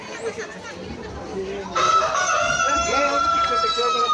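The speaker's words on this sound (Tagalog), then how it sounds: "Manok ni Kano Guapo" A rooster crows loudly and close by, one long strained call, over faint background chatter and clucking.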